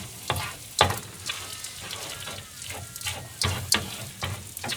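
Bacon and egg sizzle in a pan for Korean-style fried rice in a small boat's galley, a steady frying hiss punctuated by several sharp utensil clacks and scrapes; nobody speaks.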